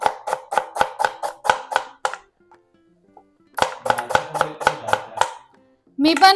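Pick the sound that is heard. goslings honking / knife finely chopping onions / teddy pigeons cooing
knife finely chopping onions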